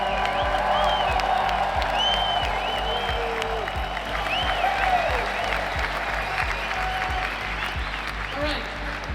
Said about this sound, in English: by show of clapping, how many people is it your first VeeCon?